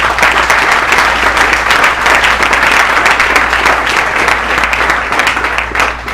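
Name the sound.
congregation applauding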